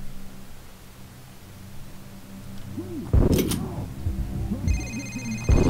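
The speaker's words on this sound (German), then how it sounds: "Da klingelt schon wieder das Telefon." Telephone ringing in the video game Condemned: Criminal Origins, sounding as a few bright ring bursts over a low droning game ambience, with a faint electronic tone near the end.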